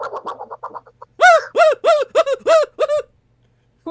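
People mimicking Donald Duck quacks, a string of nasal, raspy duck-like squawks in a quick rhythmic burst of about seven loud calls, preceded by softer rapid chatter and ending in silence.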